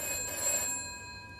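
A telephone bell rings in a short, steady electronic trill that fades out within a second and a half, heard alone without speech.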